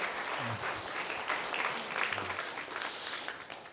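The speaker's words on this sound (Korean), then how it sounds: "크게 박수 한번 쳐주십시오." A church congregation breaks into applause after a pastor from a Korean children's evangelism association receives a certificate, a steady wash of many hands clapping at close range with faint low tones beneath.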